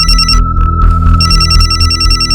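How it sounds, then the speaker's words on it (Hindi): Telephone ringing indoors at a home, loud close electronic trills in two bursts separated by a short gap, with no voices over it. "राजेश का फोन है।"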